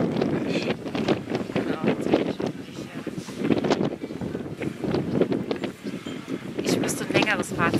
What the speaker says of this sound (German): Aber extrem windig.